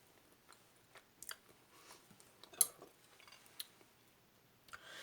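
Someone eats hot potato börek, with quiet, close crunchy bites and chewing spread across the moment, plus light clicks of cutlery, no talking.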